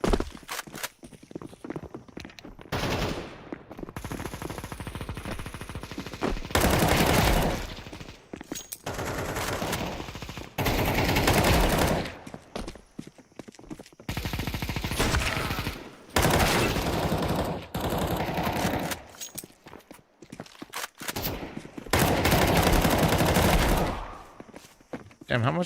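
Video game gunfire rips through in repeated long bursts of rapid automatic fire, loud and close, broken by short quiet gaps and footsteps; a voice talks between volleys.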